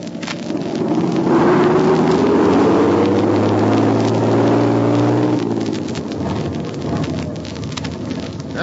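Old-time radio sound effect of a car engine straining and revving while trying to plow through a snow drift on a road, a loud rising engine whine over a steady rushing, wind-like noise.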